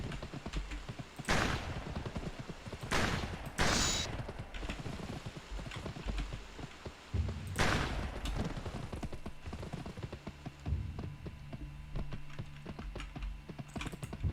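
Rifle gunfire in the video game GUN: several sharp, loud single shots spaced a few seconds apart over a steady quieter game background, with no talking.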